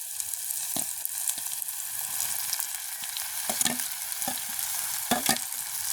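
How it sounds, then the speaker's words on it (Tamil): Fried tapioca pieces stirred into a pan of sizzling green chili and onion, a steady broadband frying hiss with repeated scraping stir strokes and spoon knocks throughout, close and alone without voices. "இப்போ கொஞ்சம் பச்சை மிளகா வெங்காயம் எல்லாம் நல்லா வதங்கிட்டு பொரிச்சு வச்சுக்கிற மோதவள்ளி கிழங்கையும் சேர்த்து கொள்வோம்"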